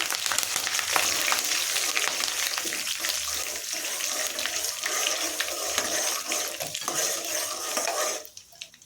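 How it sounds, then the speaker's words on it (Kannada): Curry leaves and dried red chillies frying in a pan for palak curry make a loud, continuous crackling sizzle with stirring scrapes running through it, then cut off near the end. "ಈಗ ಕರಿಬೇವಿನ ಸೊಪ್ಪನ್ನು ಸೇರಿಸಿ ಇದನ್ನು ಸಹ ಹುರಿತಾ ಇದ್ದೀನಿ"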